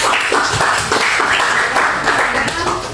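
Classroom applause in a history lesson, a short burst of clapping from students, close and fairly loud, mixed with voices talking over it for about three seconds.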